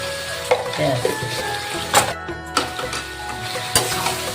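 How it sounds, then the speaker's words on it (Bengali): Lotte fish with spices and salt being stirred in a frying pan, with a steady sizzle under repeated scraping strokes of the spoon, fairly close and moderately loud. "এইবার যতটুকু নাড়া নেড়ে নিতে হবে, না হলে এরপরে আর নাড়া যাবে না।"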